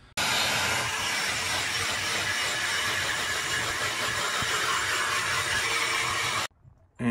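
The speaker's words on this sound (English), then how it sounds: "and then we hit it with a shop vac." A shop vac runs continuously while vacuuming water-stained boat interior upholstery (monkey fur and headliner), a loud, steady broadband roar that cuts off abruptly near the end.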